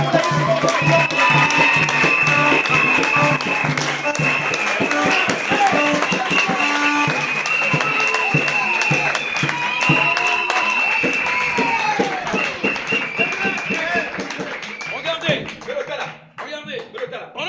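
A church congregation applauds and cheers in acclaim of Jesus: dense, continuous clapping with shouting voices layered on top, steady and loud for most of the stretch before thinning out near the end.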